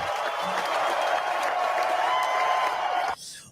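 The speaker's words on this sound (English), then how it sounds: "Please give them a big round of applause," Audience at an International Women's Day event breaks into a loud, steady round of applause that holds for about three seconds, then cuts off abruptly, leaving a faint trailing murmur.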